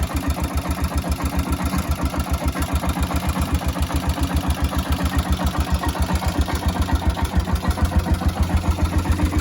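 An engine idles on a cold day with a steady, rapid, evenly spaced thumping. It is loud and close throughout, with no voices.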